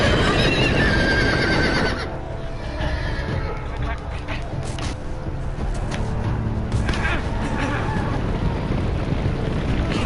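Horse neigh from the Game of Thrones video game, a loud whinny in the first two seconds over game sound, followed by softer game audio and background noise.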